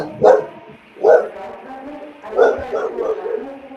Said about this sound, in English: Luna heard my dog bark.